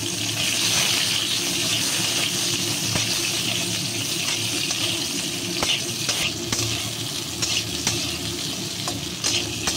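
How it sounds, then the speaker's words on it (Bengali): Mango pieces fry in mustard oil with mustard seeds and a green chili, giving a constant close sizzle with scattered crackles and the occasional scrape of a spatula stirring the pan, no talking. "এই দেখুন আমগুলো একটু ভেজে নিচ্ছি"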